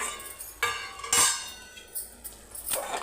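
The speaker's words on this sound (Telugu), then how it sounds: "ఇప్పుడు మూత తీసి కలుపుకుందామండి" Mutton and potato curry being stirred in a pot, with scattered metallic clinks and scrapes of a spoon against the vessel, moderately close, several distinct knocks spread across a short stretch with no speech.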